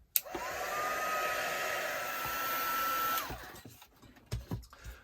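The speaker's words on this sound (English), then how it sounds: "I'm just going to blast that off with the heat gun" A heat gun blows a steady, whining stream of hot air for about three seconds, then shuts off and winds down, followed by a few faint handling knocks in a quiet room.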